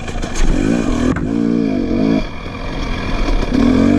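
A 2017 KTM 250 SX dirt bike engine revs up and down in the woods, loud and close, with a rising drone, a sharp drop near one second, then steady high revving for about four seconds, no talk.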